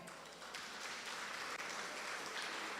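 A church congregation gives a faint, steady patter of applause for a few seconds, distant and without voices over it.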